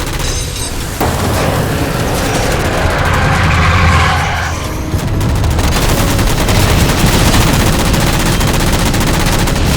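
Sustained gunfire from Halo 4 as jammers are shot down in combat, dense rapid bursts running loud and continuous nearly throughout, with a brief lull midway.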